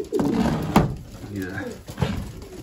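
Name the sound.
racing pigeons cooing in the loft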